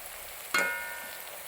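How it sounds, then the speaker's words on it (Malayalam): Garlic and ginger stirred in hot sesame oil, a faint steady sizzle broken by one brief scrape of the spoon against the pan. "ഈ വെളുത്തുള്ളിയുടെ ഇഞ്ചിയുടെ പച്ചപ്പ് മാറാൻ വേണ്ടിയാണ് ഒന്ന് ഇളക്കി കൊടുക്കുക"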